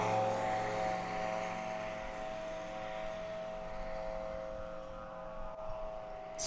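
STOL airplane flown by Tony Sanchez taking off at a Swamp STOL competition in Jennings, Louisiana, its propeller engine droning steadily and loudly with a strong tonal hum throughout.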